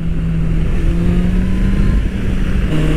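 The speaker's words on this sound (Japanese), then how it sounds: "4気筒のこのエンジンサウンドが好きでね" A Honda CBR650R four-cylinder motorcycle engine drones loud and close, holding a steady high rev with a smooth, buzzing tone throughout.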